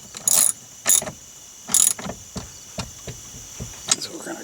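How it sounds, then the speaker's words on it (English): Short ratcheting bursts from a hand ratchet tightening bolts on a Mazda CX-50 during a trailer brake controller install, several separate clicking runs, close and fairly loud, with quieter taps and clicks between them. "we're going to crank those down with a bigger ratchet"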